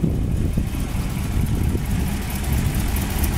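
A restored 1955 Ford Sunliner convertible's 272 V8 idles close by with a steady, even low rumble throughout.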